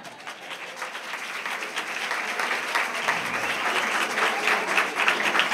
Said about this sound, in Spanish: Para todos ellos yo pido un gran aplauso.